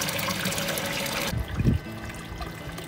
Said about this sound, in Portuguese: Então eu vou ligar a bomba agora